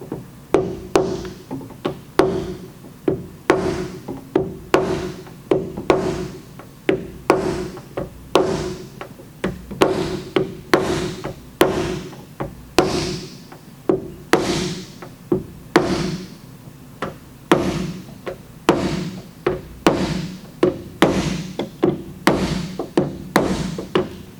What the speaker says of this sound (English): And just with those few hammer blows, I've already taken all the tension off of there.